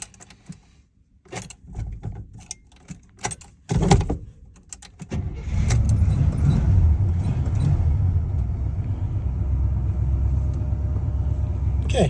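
A 1971 Buick Skylark Sport Wagon starts up after a few clicks and handling noises, then settles into a steady, rumbling idle that runs close and fairly loud for several seconds.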